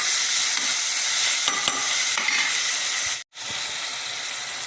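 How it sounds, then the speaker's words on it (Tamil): Tomatoes sautéing in a pan for chicken gravy, a steady close sizzle and hiss with a few stirring scrapes and one brief break near the end. "ரெண்டு தக்காளி நல்லா வதக்கணும்"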